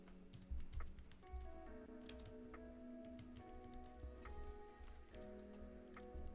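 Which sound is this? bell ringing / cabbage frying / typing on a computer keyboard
typing on a computer keyboard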